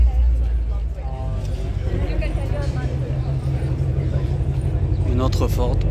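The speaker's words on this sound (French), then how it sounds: "Voilà, il y a une nouvelle voiture qui arrive." A car pulling in at the Gumball 3000 rally arrival in 2022, its low engine rumble rising over crowd chatter and nearby voices, continuous and fairly close.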